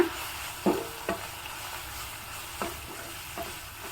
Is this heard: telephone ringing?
no